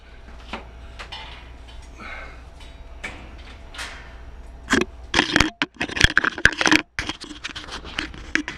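Metal tray pan sliding into a King's Cages model 509 stainless steel bird cage, heard as a cluster of sharp scraping clatters and knocks after quieter faint rattling, close and fairly loud.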